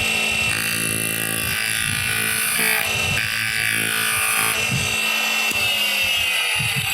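A skew chisel makes a wide gliding cut on wood spinning on a lathe. It gives a continuous bright hissing shave over a steady motor whine, with pulses of scraping as the cut moves along.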